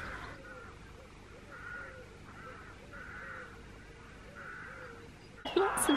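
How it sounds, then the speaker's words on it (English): Rooks and crows caw repeatedly in a Padstow town lane in Cornwall, a run of loud, harsh calls in steady bursts over outdoor background noise, ending with a sudden louder clatter. "Lots of noisy rooks and crows around us today."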